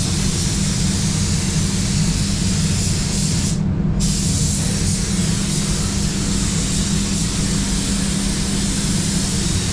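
A spray gun lays down clear coat in a steady, loud, unbroken hiss of air and atomised finish, close by, with one brief gap midway, and no talk.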